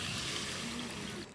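Water is poured steadily into a pan for sour-sweet hog plum chutney, a continuous splashing trickle heard close for just over a second.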